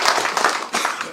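Applause from an audience at a 2019 town residents' meeting in Hongseong-eup: a dense, steady wash of many hands clapping together, close and fairly loud, with no break in the brief stretch.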